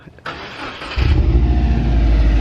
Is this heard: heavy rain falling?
no